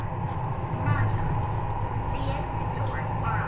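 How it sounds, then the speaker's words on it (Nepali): A driverless, automated underground metro train in Seoul gives off a steady, close low rumble that holds evenly throughout, with faint voices murmuring in the background. "underground train"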